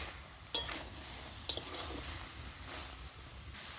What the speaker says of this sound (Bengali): জিরা ধনেটা দিয়ে আমি বেশিক্ষণ কষাবো না, একটুক্ষণ কষিয়ে আমি জলটা ঢেলে দেবো।